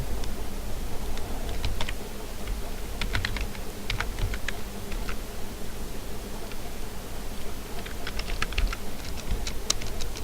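Steady clicking of computer keys as someone types, including a Shift plus Enter press, set against a constant background hiss with no voices.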